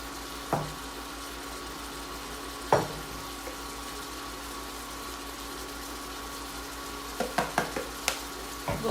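Green peas and eggs fry in a pan with a steady close sizzle, broken by a few sharp clinks and scrapes of stirring near the start and a quick cluster toward the end.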